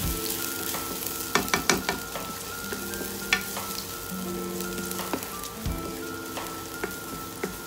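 Garlic fries in oil in a pan, a continuous crackling sizzle with intermittent spatula scrapes and clinks scattered throughout, fairly close and moderately loud, with no speech.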